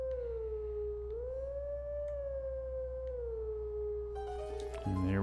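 A wolf howl rings out at the Howling Stone in Zelda: Twilight Princess, one long sustained tone rising and falling slowly over a low steady hum, clear and alone, ending in a brief burst of other game sound.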